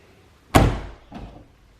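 A Dodge Viper car door closes with one solid, close slam, followed by a softer thud from a second push against it, then quiet.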